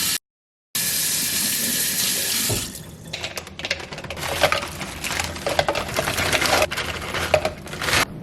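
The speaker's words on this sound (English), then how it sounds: "I thoroughly wash my hands." Water running from a household tap during handwashing, a steady close splashing stream that changes to irregular spattering and gurgling as hands move under it.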